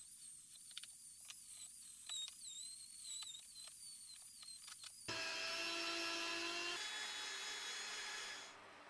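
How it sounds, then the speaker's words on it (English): A rotary tool strips old paint from a vintage Black & Decker Gold Series drill, first as faint intermittent scraping and ticks, then as a steady high whine that runs for several seconds and cuts off. "I can carry on removing the old stuff, but this time with a rotary tool"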